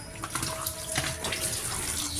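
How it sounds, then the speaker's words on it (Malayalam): Steady running well water with a continuous splashing hiss, close by, poured slowly, with no talking. "വെള്ളം കൂടുതൽ കലങ്ങാത്ത രീതിയിൽ ഒഴിച്ചു കൊടുക്കുക."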